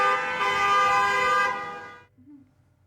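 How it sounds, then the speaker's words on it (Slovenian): Taxi drivers protesting in central Ljubljana lean on their car horns, a loud, sustained blaring chord of overlapping horns that holds steady, then cuts off abruptly, leaving faint street traffic and a brief distant tone. "taksisti so se po polže pomikali skozi center Ljubljane in hupali drug drugem"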